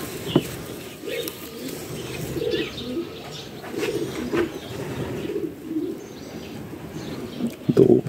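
Pigeons coo softly and repeatedly at a pigeon auction in Suceava, with scattered chirps and a brief burst of wing flapping, all in a busy indoor space; no voices stand out.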